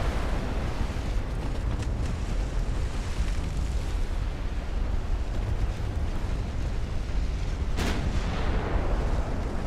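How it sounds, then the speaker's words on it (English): Dull, booming torpedo detonations from warships in a naval battle in Ultimate Admiral Dreadnoughts roll in as a dense, continuous rumble, loud and heavy, with one brighter burst near the end. "More torpedo detonations."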